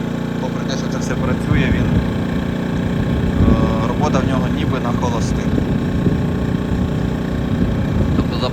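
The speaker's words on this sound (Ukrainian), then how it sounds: "Наразі працює генератор, підключений один будинок" A KRAFT&DELE KD133 1900 W inverter petrol generator runs while powering a house with a gas boiler, giving a loud, steady, close engine drone with someone talking over it.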